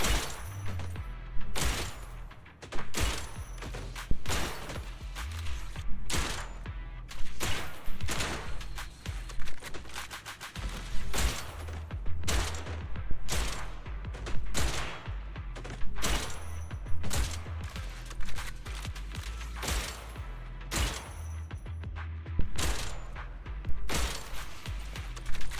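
Gunfire in the video game Zenless Zone Zero, with rapid repeated shots and heavy booming bursts in a loud, dense rhythm throughout, with no talk over it.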